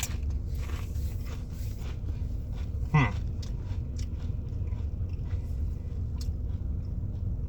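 A Clancy's nacho cheese tortilla chip gets bitten once with a sharp crunch, followed by quiet chewing, close to the microphone against a steady low background hum.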